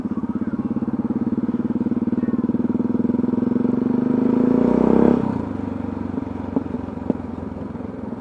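A motorcycle engine runs steadily close by with a rapid pulsing throb, swelling briefly as it revs before settling back to a lower idle-like rumble, ridden through a crowded Groningen city centre on King's Day.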